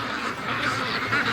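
A large free-range flock of Muscovy ducks, more than six hundred birds, grazes a yard. Their quacking chatter is loud, dense and continuous, with overlapping calls close by.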